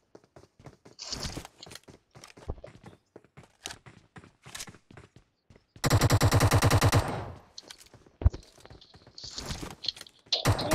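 Rapid automatic gunfire from a video game bursts in as a loud dense run for about a second and a half near the middle, set among scattered clicks, footsteps and other game effects.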